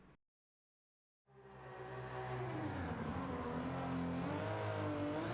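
An engine-swapped 2018 BMW M2 Competition drifting at Suzuka in Gran Turismo 7, starting after a silent pause, then a loud, steady, droning engine held at high revs with shifting pitch as the car slides.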